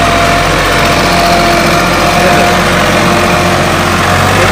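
An old tractor engine idles steadily with a loud, even low-frequency throb and chugging mechanical hum, continuous and close, with no voices.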